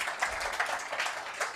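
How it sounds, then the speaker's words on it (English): An audience at an OWASP London chapter meetup hosted at Just Eat gives a round of applause, a short burst of clapping in uneven pulses. "So let's, by the round of applause, can say a big thank you to Just Eat for hosting us tonight."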